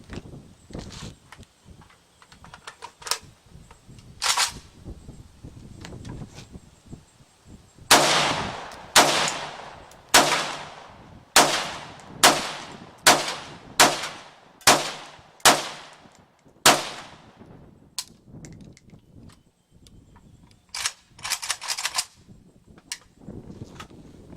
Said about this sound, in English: got another 10 rounds in the mag. See if she fires again.